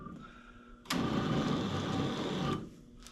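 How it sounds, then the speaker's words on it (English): Power tool countersinking bolt holes in a part from a 1960s Delta Rockwell Model 31-501 6x48 belt sander, a close, loud grinding burst lasting about a second and a half, with no talk. "I'm just going to countersink these just a little bit"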